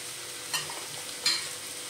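A spoon stirs sesame-coconut spice mix and crushed peanuts into vegetables in a sizzling pan, with two brief scraping strokes over a constant frying hiss.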